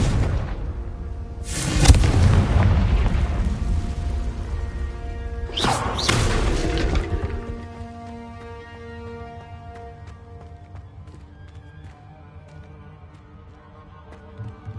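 Two heavy blasting-curse explosions from the Hogwarts Legacy video game, each a loud booming burst with a sharp crack, spaced a few seconds apart, followed by a long ringing, shimmering magical tail that fades out.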